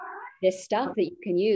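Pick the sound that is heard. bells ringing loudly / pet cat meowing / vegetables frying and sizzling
pet cat meowing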